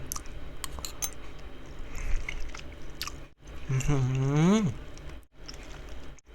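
Someone chews a bite of a sour, seeded Isan fruit with a lychee-like flesh, the wet crunching close and steady, broken by a brief hummed vocal sound midway.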